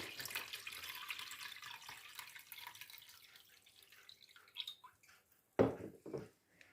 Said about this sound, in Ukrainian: Так, Я наливаю сюди води.